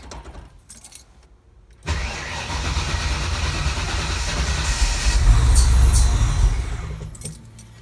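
Car fitted with homemade exhaust headers cranks and fires up for the first time after a quiet moment with jangling keys, then settles into a loud, rough idle that swells briefly before easing.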